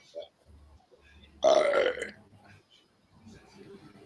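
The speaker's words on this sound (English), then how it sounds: "He's just burping." A loud, drawn-out burp rises up close between stretches of quiet conversation.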